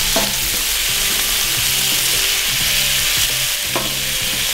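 Bacon frying in a pan for a breakfast of eggs and bacon, a steady dense sizzle and crackle filling the whole stretch, close and loud, with a few soft scraping stirs on top.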